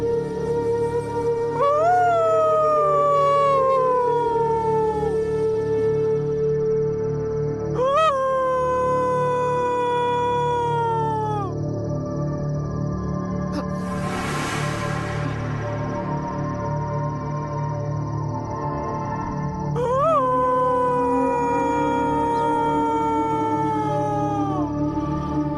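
A dog howls at night in long, drawn-out rising and falling wails, three separate howls spread across the stretch over a steady low background hum.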